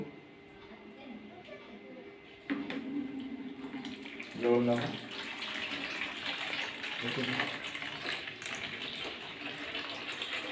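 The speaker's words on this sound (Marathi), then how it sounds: "पाच मिनिटांनी गरम पाणी पूर्णपणे आपल्याला काढून घ्यायचं आहे" Hot water drained off Dashrath grass seeds after a five-minute soak, a quiet trickle that strengthens into steady running water with a brief splashing gush near the middle, fairly close and soft overall.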